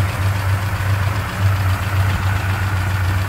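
A 1964 Dodge Polara 500 with a 500 cubic inch B-block stroker engine and a 440-source crank idles close by, its deep, steady rumble pulsing with a slightly uneven lope, and no one speaks.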